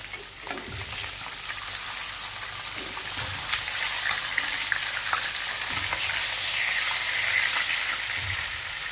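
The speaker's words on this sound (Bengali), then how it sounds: "মনে হয় একটু হয়ে গেছে, মাছটা উল্টিয়ে নিই।" Katla fish pieces frying in hot oil after being turned over, with a continuous close sizzle and scattered knocks and scrapes from the utensil against the pan.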